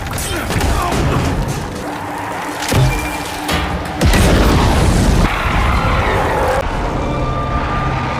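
Explosive shot blast from a film battle against a radiation-mutated creature, heavy booming impacts and crashing rumble rolling through several seconds, loud and dense with layered debris and low thuds.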